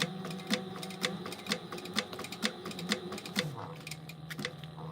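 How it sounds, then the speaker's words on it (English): A sewing machine top stitches a seam on a mini backpack, a close, rapid mechanical whir of needle strokes that speeds and slows over several bursts, with brief pauses. "we're going to top stitch this, stay stitch it"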